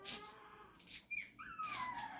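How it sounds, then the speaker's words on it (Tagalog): A puppy whimpers in a few thin, rising and falling whines, faint and close, wanting to be let outside. "Yung tuta ko, guys. Gusto lumabas."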